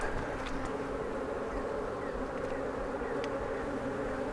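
Honey bees buzz steadily inside an open beehive holding a developing queen cell, a dense close hum filling the air without any talk.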